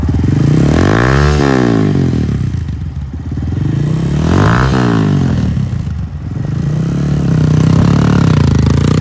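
A used 2018 Honda Grom 125 lightweight sport motorcycle running loud and close, its engine rising and falling through repeated revs over a steady idle, with no speech.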